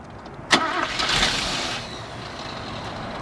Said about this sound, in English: We'll go ahead and fire this one up for you.